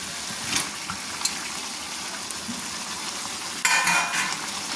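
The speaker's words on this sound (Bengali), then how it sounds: "দিয়ে ভালো করে নেড়ে নিচ্ছি" Chicken being stirred together with fried potatoes in a pan while cooking chicken kosha: a soft, steady frying sizzle with a few clinks of the spoon, then a louder scrape and burst of sizzle near the end.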